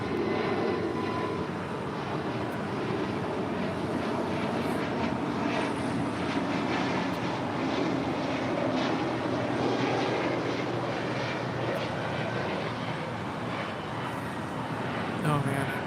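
An airliner climbs out on departure from Los Angeles International Airport, its engine roar a steady, loud broadband rumble that holds for the whole stretch, with faint talk underneath.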